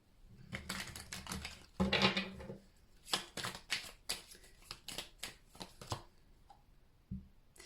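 Tarot cards being shuffled and drawn from a deck, heard close up as a riffling burst followed by a run of sharp, separate flicks and slaps, fairly loud with no talk.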